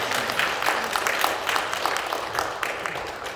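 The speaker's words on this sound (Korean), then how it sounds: "박수를 받았습니다" A church congregation at a Sunday service claps for a visiting daughter of one of the members, a steady round of applause that fades gradually toward the end.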